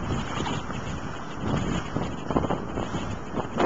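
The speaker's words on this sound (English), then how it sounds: "See, the wind's hitting us now." Outdoor wind buffets the microphone in a steady broadband rush with gusts that swell and fade, close and moderately loud, with no voices.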